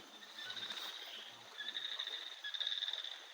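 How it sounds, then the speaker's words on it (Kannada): A very small frog calls near water on Mannapapu Mala, Karkala, giving faint, thin, high-pitched chirping pulses that grow denser and slightly louder toward the end over quiet night background. "ಅದು ಅತಿ ಚಿಕ್ಕ ಕಪ್ಪೆ ನೀರ ಹತ್ರ ಇರುತ್ತೆ"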